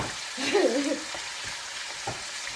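Fish frying in hot oil, a dense continuous sizzle close by with a brief tonal squeal early on and a few soft knocks.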